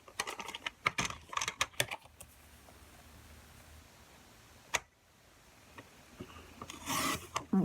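Card paper being trimmed for simple Fourth of July cards, soft scraping and cutting strokes in quick clusters, close and quiet, with a sharp click partway through and a louder rustle near the end.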